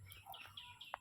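Free-roaming hens near their coop give a few faint, soft clucks and chirps over a quiet outdoor background, one short call standing out near the end.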